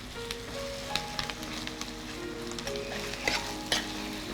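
Curry leaves frying in a pan for ladies' finger chutney, a close, steady sizzle with scattered sharp pops and crackles, no talk.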